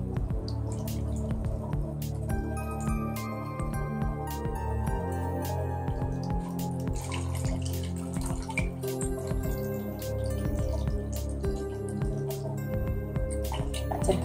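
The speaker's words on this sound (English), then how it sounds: "See it having a little bit of a tough time getting through the funnel there." Dandelion mead drips and trickles steadily through a funnel that is holding back petals, a dense run of close, wet drips and small splashes over a liquid gurgle, with no voices.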